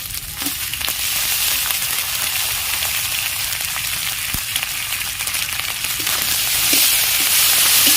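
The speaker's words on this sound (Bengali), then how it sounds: "এর মধ্যে করে টমাটো কুচোটা দিয়ে দেবো" Chopped tomato fries in a pan over an onion and ginger garlic base, sizzling loudly and steadily up close with a few faint stirring clicks.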